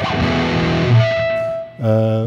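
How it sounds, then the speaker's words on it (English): Electric guitar riff played through a Soldano amp at maximum distortion with compression, thick and saturated with heavy sustain and overtones, in two loud phrases separated by a brief dip. "Soldano amp, max distortion, compression, really nasty."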